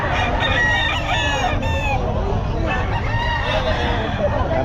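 White streamer chickens at the Bocaue pet market give repeated close clucks and a crowing call, with people talking in the background of a busy market.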